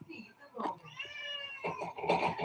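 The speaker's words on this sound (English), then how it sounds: "I have chatty cats." Indoors, a cat lets out a long, fairly close meow, with a shorter call and some noise around it and faint talk in the background.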